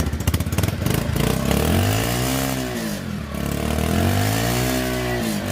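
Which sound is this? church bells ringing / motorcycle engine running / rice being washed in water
motorcycle engine running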